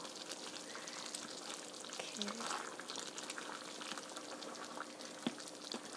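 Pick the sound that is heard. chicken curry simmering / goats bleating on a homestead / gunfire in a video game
chicken curry simmering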